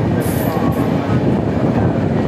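A train carrying a general coach on the Rajkot to Haridwar run rumbles steadily from inside, loud and close, with rhythmic wheel clatter and a faint high squeal early on.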